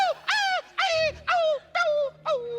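A performer's voice imitates a dog yelping in five evenly spaced, loud, high whining cries, like a dog hit by a falling goat, each rising then sliding down.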